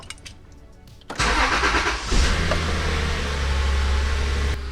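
A Subaru Outback engine cranks briefly and catches, then settles into a steady, close idle hum after a quiet lead-in.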